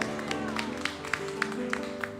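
Congregation clapping in rhythm during a Mandarin-language Sunday church service, steady regular hand claps over sustained music and singing voices.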